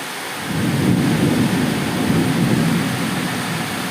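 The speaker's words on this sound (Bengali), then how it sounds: "কত জোরে জোরে মেঘ ডাকছে" Heavy thunder rolls in a long, deep rumble over a steady downpour of rain, loud and sustained with no voices.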